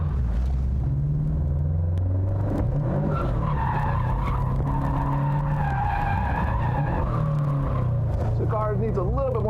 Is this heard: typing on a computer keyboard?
no